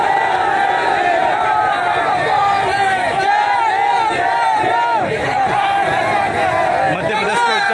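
Thousands of Bhim Army supporters at a rally convoy in Ujjain, Madhya Pradesh, shout and cheer together in a loud, continuous roar of massed voices that runs unbroken throughout.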